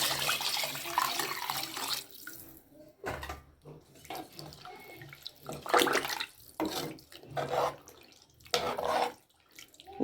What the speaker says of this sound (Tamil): இப்போ நம்ம 6 டம்ளர் தண்ணி ஊற்றிக்கலாம்.